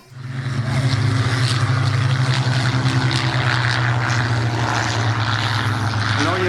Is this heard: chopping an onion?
no